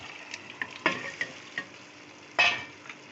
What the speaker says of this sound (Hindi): अब हम इसमें डाल देंगे गोश्त और उसकी यखनी।